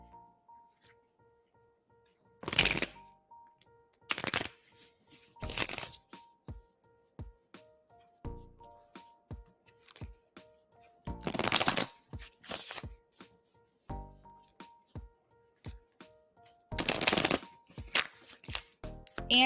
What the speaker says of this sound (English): I am shuffling for you right now